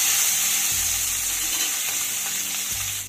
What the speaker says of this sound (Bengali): বাকি মাছগুলোও আমি ভেজে নেব।